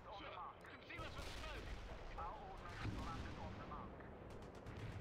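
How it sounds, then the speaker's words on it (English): White phosphorus and artillery shells explode in the World in Conflict video game, a dense continuous rumble of blasts and crackling fire with voices faintly mixed in, heard at low volume. "White phosphorus and artillery shells."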